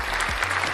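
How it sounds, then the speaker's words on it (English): A brief round of applause for Pete Carroll on a Raiders fan show, a steady dense wash of clapping with a low hum underneath and no voices. "let's get a round of applause, man, for Pete Carroll and his 3 rules"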